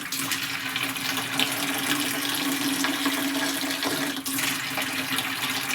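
Liquid pours from a jug in a loud, continuous, close gushing flow with faint bubbling, holding steady almost throughout apart from one brief dip, and no one speaks.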